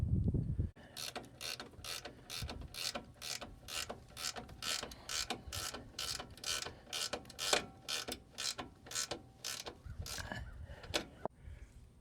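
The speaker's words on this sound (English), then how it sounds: "So I got to finish tightening these top strut mounts or bolts and then torque them" A hand ratchet tightens the top strut mount bolts during a 6-inch lift install, a long run of rapid, evenly spaced clicking strokes, close and loud, with a short thud at the start and no talk.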